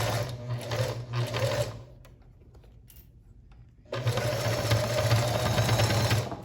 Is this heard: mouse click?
no